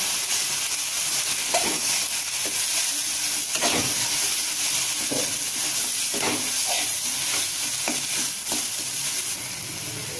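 Tomatoes sauté in a pan for Tamil-style tomato kurma, giving a steady, close sizzle and hiss throughout, broken by occasional soft clacks of stirring.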